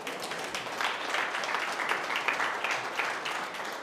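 An audience applauds, a dense, even wash of many hands clapping at moderate volume that holds steady throughout, with no speech over it.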